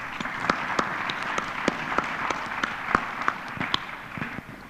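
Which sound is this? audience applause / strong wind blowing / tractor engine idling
audience applause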